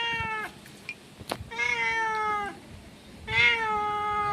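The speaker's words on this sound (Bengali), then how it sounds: "খাবার চাইছে মাও করে।" A pet cat meows for food in a kitchen, three drawn-out, close meows with short pauses between them.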